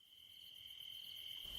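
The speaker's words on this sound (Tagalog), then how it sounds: "tanging tunog ng kuliglig ang maririnig naming lahat" Crickets chirp in a quiet forest at night, a steady high continuous trill against a faint, hushed background, with no other sounds.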